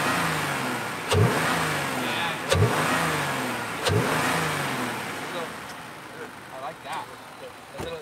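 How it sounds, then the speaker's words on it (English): 2021 Jeep Grand Cherokee L engine revved with the hood open, with induction noise: three sharp throttle blips over a steady idle, then smaller blips, close and moderately loud, with a voice talking underneath. "So also here, hood open rev."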